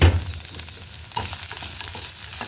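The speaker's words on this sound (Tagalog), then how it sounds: "Naglalagitikan na." Food fries in olive oil with a loud, close, continuous crackle and sizzle, sharp pops breaking through the steady hiss, and no voices.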